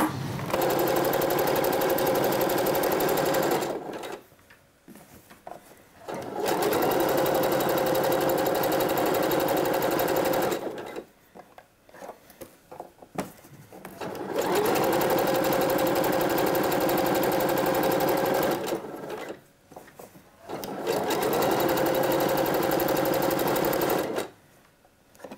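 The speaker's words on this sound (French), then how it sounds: "on va faire notre dernière couture à la machine à coudre au point zigzag" Sewing machine stitching a zigzag seam on swimsuit fabric, four long close bursts of rapid needle whirring separated by short quiet pauses with faint handling sounds, no speech.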